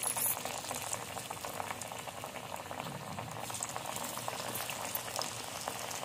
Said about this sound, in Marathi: तर आम्ही आता तळतो कढईमध्ये.